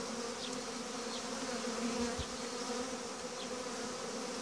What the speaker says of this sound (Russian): Вот выходит пчелка.